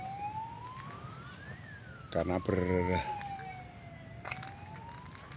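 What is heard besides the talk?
ambulance siren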